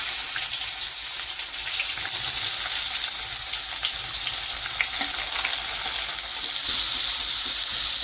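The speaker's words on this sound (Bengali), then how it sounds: "এবার এর মধ্যে আমি কুচো পেঁয়াজগুলোকে দিয়ে দেবো।" Chopped onions tossed into hot oil give a loud, steady sizzle that hisses without pause, with small crackles scattered through it and no voices over it.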